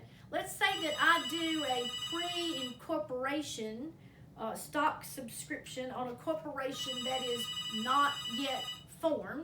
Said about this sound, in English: excuse the phone, we're going to hope that stops in a moment.